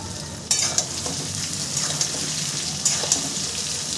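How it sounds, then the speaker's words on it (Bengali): Mango pieces fry in oil for a sour-spicy oil mango pickle, a steady sizzle broken by a few sharp clatters as the pieces are stirred in the pan. "আমটা সুন্দর করে আমি ভেজে নিচ্ছি"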